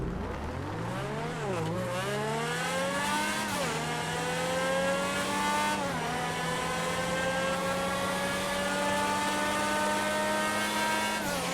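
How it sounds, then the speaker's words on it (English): A loud car engine in GTA Online roars steadily with rising, falling harmonics as the revs climb and shift, a continuous exhaust drone with no voices. "Only the exhaust sound is what we're measuring on the sound meter."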